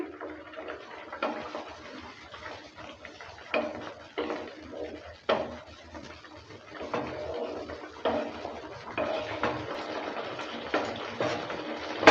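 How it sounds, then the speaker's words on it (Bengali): Pumpkin and egg-fritter curry being stirred in a pot after garam masala goes in, with repeated clinks and scrapes of a spoon against the pot in an uneven rhythm, close and moderately loud. "গরম মশলাটা দেওয়ার পর ভালো করে আবারও নেড়ে চেড়ে নিচ্ছে"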